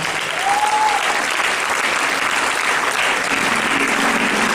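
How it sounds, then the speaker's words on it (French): Sustained applause from a church congregation cheering in the new year 2015, a dense, steady wash of clapping at fairly even loudness throughout, with a brief whistle-like tone early on and faint crowd voices mixed in. "On acclame pour l'année 2015."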